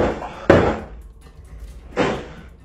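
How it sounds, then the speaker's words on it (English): A door in a reportedly haunted home is shut and bangs loudly twice, a sharp broadband thud at the start and another about a second and a half later, each trailing into a brief rumble, with no talk. "When he shuts the door again, a loud banging is repeatedly heard."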